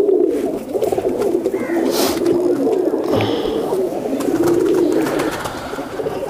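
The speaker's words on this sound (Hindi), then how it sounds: "और ये देखें ये भी एक छतरी वाला कबूतर।" Umbrella-type low-flyer pigeons cooing steadily, with soft, repeated throaty coos close by and a faint rustle.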